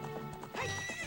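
A horse neighs and whinnies in Zelda: Ocarina of Time, with hoof clip-clops and game music around it, a short, fairly loud burst lasting about a second.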